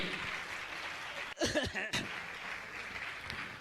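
Soft, distant applause from a gathered crowd at a Jain religious discourse session honouring a family, a light patter briefly broken by a louder burst of voices or laughter midway.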